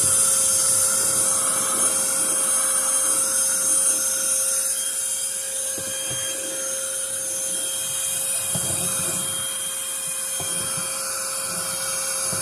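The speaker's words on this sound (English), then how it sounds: "Let's clean up my mess that I just made." A household vacuum cleaner running steadily and loudly while cleaning up a mess during a drinking water filter installation, a constant whining drone with occasional bumps and shifts as it moves.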